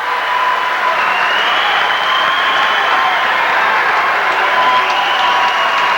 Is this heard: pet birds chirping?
no